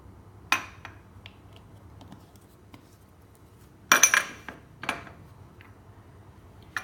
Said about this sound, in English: Mix all the ingredients well